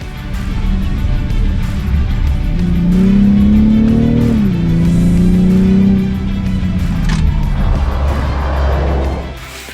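A 2020 BMW X6 SUV accelerating on an open road, its engine rising in a smooth climbing drone that dips once as it shifts, then settles back into loud, steady cabin and road noise.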